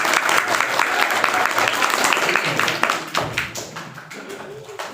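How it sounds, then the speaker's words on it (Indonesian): A gathering of pesantren students claps together after a Qur'an recitation, with dense applause that rolls on steadily and then thins out and tapers toward the end. "Tepuk tangan dong."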